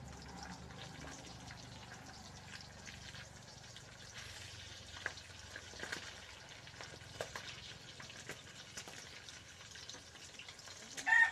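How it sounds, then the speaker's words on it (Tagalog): Fish frying in hot oil, a steady low sizzle with scattered crackles and pops of splattering oil, ending in a louder burst near the end. "Tumatalsik yung mantika."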